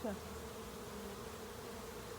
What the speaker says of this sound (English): They had a whole lot of bees on the front.